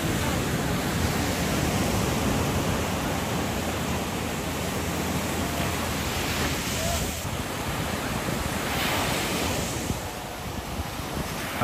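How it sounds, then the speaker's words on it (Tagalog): Big ocean waves roar and crash continuously at La Union, Philippines, with heavy wind buffeting the microphone and faint voices in the background. "laki na ng alon"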